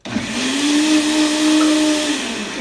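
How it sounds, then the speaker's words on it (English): A kitchen blender whirring loudly and steadily for a few seconds, its motor holding a near-constant pitch with a slight rise, heard alone without speech. "the blender tried to throw it up"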